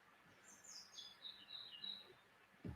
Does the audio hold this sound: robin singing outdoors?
yes